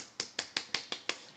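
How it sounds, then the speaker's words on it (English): Six crisp, evenly spaced hand claps or snaps in quick succession, close and clean with short decays and no talking. "That is the sound of clapping."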